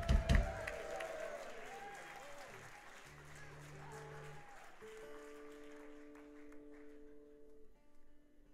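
Concert audience applause and a few cheers for a band member at the Corn Exchange in Edinburgh, swelling briefly at the start and then fading beneath lingering sustained instrument tones.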